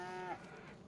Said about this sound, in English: My beef cattle are in the other pen over here.